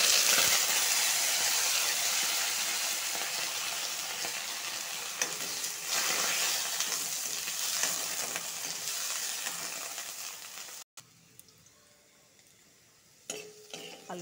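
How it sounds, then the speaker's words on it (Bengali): Small diced potatoes fry in hot oil with black cumin seeds and bay leaves, a loud steady sizzle with occasional stirring that cuts off abruptly, followed by quieter clinks. "আলুটা ভেজে নিয়েছি"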